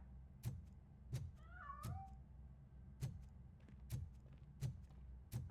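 A cat meows once in the video game RoboCop: Rogue City, a short, clear call among sharp, regularly spaced clicks and taps in an otherwise quiet scene.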